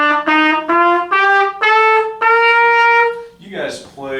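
A trumpet plays a short series of clear, bright sustained notes stepping upward, each separated by brief gaps, close and loud, ending in a rougher breathy blurt.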